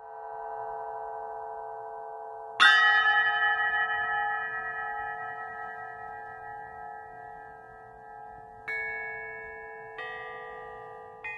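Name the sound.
Burmese spinning bells ringing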